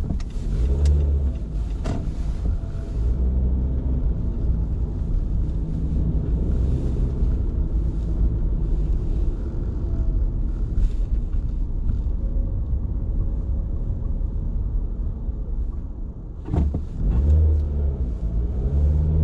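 A car drives overnight from Yonkers Avenue toward the Bronx River Parkway, with a steady low road rumble and engine drone heard from inside the cabin, a couple of brief louder thumps breaking the continuous wind and tire noise.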